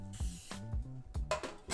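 Grease sprayed from a can onto cake pans in three short, close hissing bursts with brief gaps between them.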